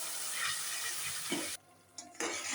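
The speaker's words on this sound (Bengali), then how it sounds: "আদা রসুন দিয়ে দিয়েছি, এখন একটু ভাজা ভাজা করে নেব" Ginger and garlic sizzle in a pan with salt for a hilsa curry, a soft, steady frying hiss that briefly drops away and then returns, with no talking.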